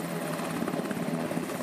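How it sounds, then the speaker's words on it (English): Close Seahawk helicopter near a littoral combat ship, giving a steady loud rotor drone with a rapid blade thump, sounding continuously on its own throughout. "The littoral combat ship is equipped with a flight deck and hangar for the Seahawk helicopters that are used for surveillance or assault."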